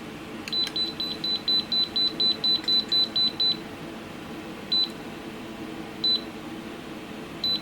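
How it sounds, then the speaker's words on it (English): An Aneng AN8008 multimeter beeps in a fast regular run of about fifteen short, even chirps. A few isolated beeps follow after pauses, all close and clear over a low steady hum. "This is going to start beeping."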